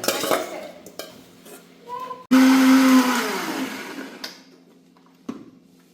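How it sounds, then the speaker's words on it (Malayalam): A mixer grinder whirs loudly, grinding roasted tomato and garlic into paste without water, with a sudden steady motor roar after a few clinks and knocks, then cutting off. "ഇനി നമുക്കിത് അരച്ചെടുക്കാം. വെള്ളമില്ലാതെ അരച്ചെടുക്കണം."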